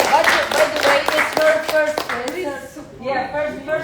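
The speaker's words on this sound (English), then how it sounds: "Let's clap for her." Audience clapping for a woman giving her first master class at an institute, a scattering of sharp claps running under continuous speech and fading toward the end.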